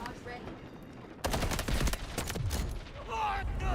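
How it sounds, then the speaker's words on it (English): An artillery barrage in Delta Force hits after quiet radio chatter, with a sudden wall of heavy, rolling explosions and crackling blasts. A voice speaks through the continuing rumble. "Artillery barrage incoming."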